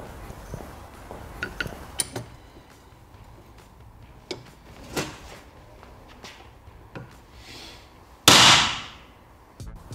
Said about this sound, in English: We've got to gently persuade this plastic cog off this metal bearing.